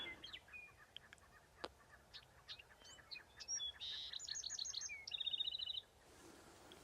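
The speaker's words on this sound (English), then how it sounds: "There's so many different varieties of birds out here." Wild birds on Antelope Island chirp and call in a quiet outdoor setting: scattered short tweets, then a run of rapid repeated high notes and a trilling series, faint and fairly distant, with no voices.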